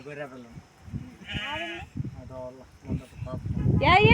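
Three sheep bleat repeatedly nearby in a village, several wavering calls in succession, the last one loud and drawn out, with rustling in between.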